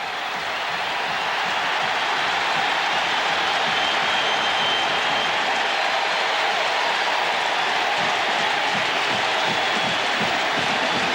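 A roaring stadium crowd at a 1999 Notre Dame vs Tennessee college football game, a broad, sustained wash of cheering and noise that swells slightly and holds steady and loud.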